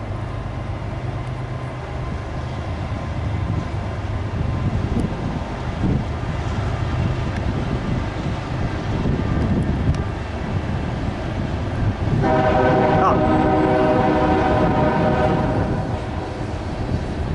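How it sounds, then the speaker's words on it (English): A freight train rumbles past near a lock on a trail, its broad roar building and then joined by a loud sustained horn blast toward the end, with wind noise throughout. "Freight train."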